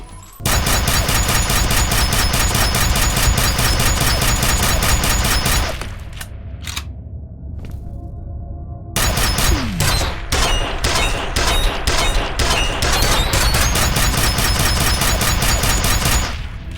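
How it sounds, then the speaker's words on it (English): Rapid automatic firing from the HV Penetrator, a bulky sci-fi weapon in the game FEAR, delivering loud repeated high-pressure air thumps in two sustained bursts separated by a short lull with a few isolated shots. "It doesn't bang like a gunpowder weapon. It thumps with the sound of high-pressure air."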